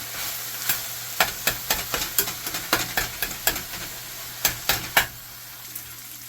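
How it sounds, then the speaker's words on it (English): Ground beef and onions fry in a pan with a steady sizzle, broken by a quick run of sharp, rhythmic scraping taps as a utensil works the meat, close up and without speech. "So I'm going to let this go until it starts to fry."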